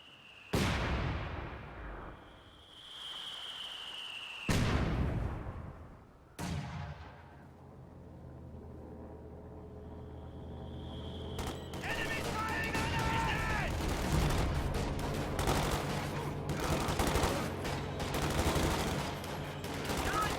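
Sharp gunfire bursts and booming artillery from a World War II-style war strategy video game match, with machine gun rattle thickening into dense continuous fire later, alongside game voices.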